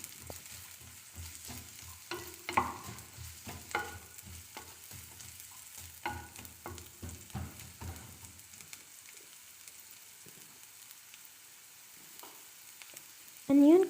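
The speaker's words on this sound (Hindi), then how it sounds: "मैंने 2 टेबलस्पून ऑयल में मीडियम साइज़ का चॉप अनियन शामिल किया है और अब मैं इसको सौटे करूँगी" Chopped medium onion sautés in two tablespoons of oil, a soft sizzle with repeated utensil scrapes and taps for about eight seconds, then near quiet before a loud clatter at the end.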